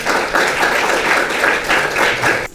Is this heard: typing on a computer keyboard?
no